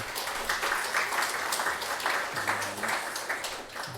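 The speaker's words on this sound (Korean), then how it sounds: "우리 하나님께 영광의 박수 올려드리겠습니다" A church congregation applauds during a Sunday service, a steady wash of many hands clapping for about four seconds, moderately quiet, with a faint low voice briefly underneath.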